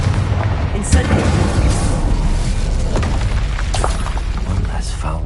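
Fire spells exploding in a Hogwarts video game, a continuous barrage of booming bursts and crackling blasts layered over dense battle noise, loud and close, with a voice calling out spell incantations throughout.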